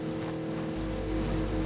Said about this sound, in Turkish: Yine maşın.